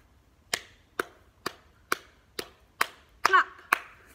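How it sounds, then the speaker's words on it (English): Feet stamp in a drama game, eight sharp, evenly spaced thuds about half a second apart, close and fairly loud, with one brief squeak mixed in near the end. "Stamp."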